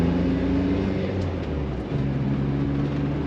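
A loud classic Ford Capri's interior drones with steady low engine hum and road rumble while driving, a brief dip midway as the engine note shifts, constant throughout.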